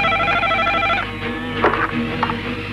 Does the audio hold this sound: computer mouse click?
no